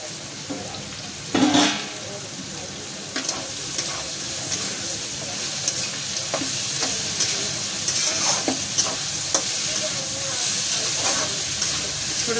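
Onion, carrot, cabbage and capsicum are stir-fried for chowmein: a continuous hot sizzle and hiss close up, broken by repeated scraping tosses of the vegetables, one louder clatter near the start.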